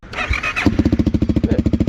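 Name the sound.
CFMOTO 300SS motorcycle exhaust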